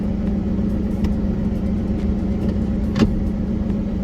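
Off-road vehicle engine idling with a steady low hum while it is shifted into four-wheel drive, with a few faint clicks and a brief thump near the end.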